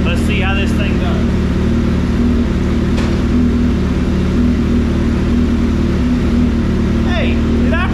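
A 2023 Suzuki Hayabusa with a full Brock's exhaust, Carbon Smith velocity stacks and a Sprint air filter running on a dyno, a loud constant engine drone with faint voices and chirps over it.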